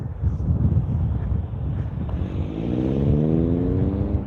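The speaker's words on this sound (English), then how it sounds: "the wind was blowing so hard" Strong wind gusts buffet the microphone on a bridge atop Glen Canyon Dam, a loud, continuous low roar that swells slightly toward the end, heard alone with no talking.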